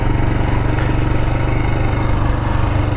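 A Royal Enfield Himalayan motorcycle rides through water, its single-cylinder engine chugging in a steady, loud, close thump throughout, with a faint splashing wash over the top.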